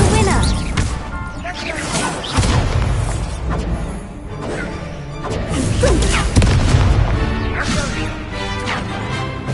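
Fire spell Incendio cast in the Hogwarts Legacy video game, with booming magical blasts, whooshes and crashes over a busy, continuous game soundtrack, with a voice calling out spells.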